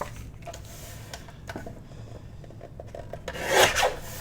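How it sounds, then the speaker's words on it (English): A paper trimmer slices through sheets of 12x12 patterned paper, giving brief scraping, rasping strokes and light clicks, ending with a louder sliding cut near the close. "Let's use our trimmer."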